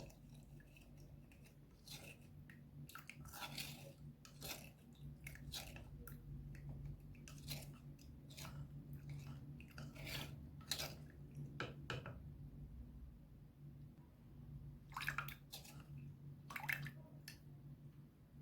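Homemade hair dye ingredients being stirred in a bowl, with soft wet squishing and clicking spoon strokes in irregular bursts over a low background hum, close and fairly quiet, with no talking.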